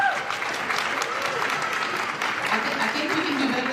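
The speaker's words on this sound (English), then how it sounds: "Would you please stand and turn and give a round of applause" An audience at a nursing school convocation ceremony gives a sustained round of applause, full and close, with voices audible within the clapping.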